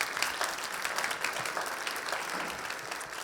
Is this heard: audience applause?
yes